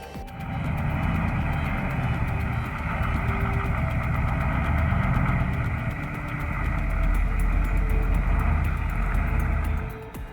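An Iveco logging truck's diesel engine idles in a steady, loud, low rumble with a faint vibrating hum, unbroken and without voices.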